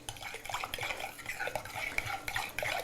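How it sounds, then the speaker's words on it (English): A spoon scrapes and clinks steadily around a bowl, stirring blueberry muffin batter of eggs, oil, sour cream and vanilla, in close, rhythmic strokes with light metallic taps. "Mix your eggs and your oil and your sour cream and your vanilla all together."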